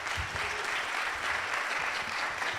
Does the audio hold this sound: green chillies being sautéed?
no